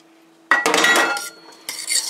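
Pineapple and coconut tossed into a pot of rice pilaf, giving a loud clattering scrape and rustle, a short pause, then another burst of scraping and clinking from a fork against the pot.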